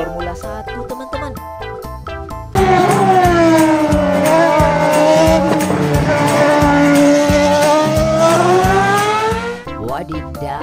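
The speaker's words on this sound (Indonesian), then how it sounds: "Mobil Formula 1 teman-teman." A red Formula 1 race car whooshes past with a long rising and falling engine whine, loud and sustained over background music.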